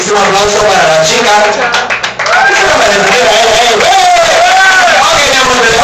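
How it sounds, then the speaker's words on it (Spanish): A crowd at a drag show claps and cheers loudly and continuously, with shouts and voices layered over the roar, briefly dipping near the middle before swelling again. "Así que un fuertísimo aplauso para la chica."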